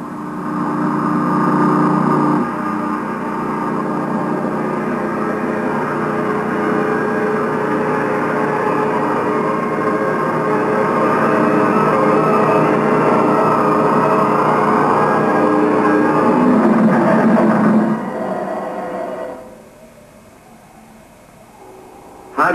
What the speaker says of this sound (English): the convoy of snowcats and weasels heads south